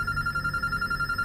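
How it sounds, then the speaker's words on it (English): A telephone rings indoors, a steady electronic trill pulsing in rapid even bursts, moderately loud and heard alone. "Phone's ringing."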